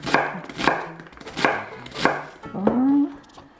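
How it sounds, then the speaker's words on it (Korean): Onion being minced with a knife on a cutting board, five sharp, evenly spaced chops up close, with a faint clatter near the end and no talking. "자, 양파 70g. 이렇게 다져줄게요."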